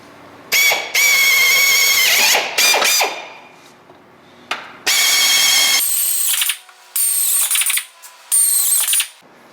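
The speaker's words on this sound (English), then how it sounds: "we can take our drill and our 17/32 drill bit and go through and mark the holes" A power drill with a 17/32 bit boring holes for rear fender flare mounting, several loud whining bursts of a few seconds each separated by short pauses, close and alone without talk.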